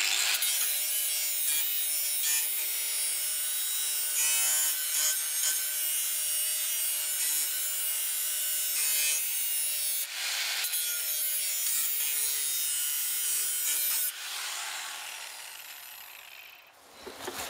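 Something being sharpened by hand, a steady rasping, grinding scrape with rhythmic rubbing strokes continuing for most of the stretch, fairly quiet and heard alone, changing tone near the end.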